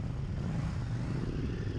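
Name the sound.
KTM 790 Duke motorcycle engine with stock exhaust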